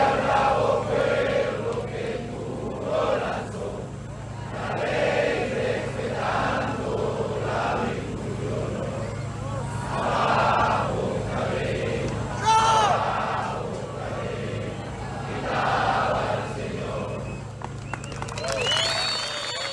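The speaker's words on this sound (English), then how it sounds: "Someone prompts the crowd to sing the Venezuelan national anthem before they leave." A large crowd of Venezuelan migrants sings the Venezuelan national anthem together outdoors at a camp before dawn, voices blending in rising, sustained phrases over a murmur of crowd noise.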